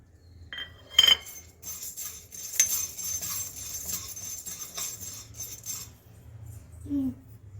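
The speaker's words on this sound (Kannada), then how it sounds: "ಮೊದಲಿಗೆ ನಾನು ಇಲ್ಲಿ ಕಡಲೆಬೇಳೆ ತೊಗೊಂಡಿದ್ನಲ್ಲ, ಅದನ್ನು ಹುರ್ಕೊಳ್ಳೋಣ." Chana dal dry-roasting in a pan on the stove for an idli and dosa chutney powder, with soft scraping, rattling grains and a few metallic clinks of stirring, fairly quiet and close.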